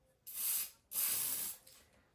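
An aerosol can of white paint for a Tamiya 1/10 scale Porsche 956 model gives two close, hissing sprays. The second is longer, and a weak, sputtering puff trails after it.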